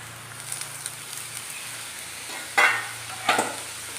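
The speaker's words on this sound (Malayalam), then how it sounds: "നമ്മൾ കറയെല്ലാം കളഞ്ഞ് വെച്ചിരിക്കുന്ന നമ്മുടെ വാഴക്കൂമ്പ് നമുക്കിതിനകത്തേക്ക് ഇട്ട് കൊടുക്കാം" Banana flower, cleaned of its sap, goes into a hot pan for a stir fry, giving a soft steady sizzle with two sharper bursts of stirring and scraping near the end; no talking.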